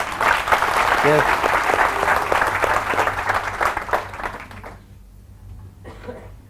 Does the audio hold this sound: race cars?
no